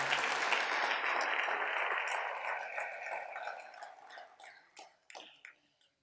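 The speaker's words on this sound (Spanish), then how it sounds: "Dele un aplauso al Rey en esta hermosa y maravillosa tarde, aleluya." A church congregation at a Spanish-language service applauds, starting as a dense burst of clapping that gradually thins out into a few scattered, separate claps before fading away.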